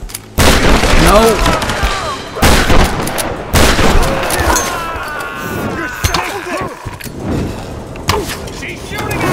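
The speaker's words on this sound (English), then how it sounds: "She's shooting at us." Enemy gunfire in Tomb Raider (2013) cracks out in sharp, loud bursts among booms and clattering game noise, with someone talking over the action.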